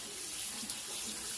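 Tripe for Mexican menudo rojo, soaked in lemon juice and water, being rinsed under a running tap in a sink: a steady close hiss of flowing water with light splashing throughout.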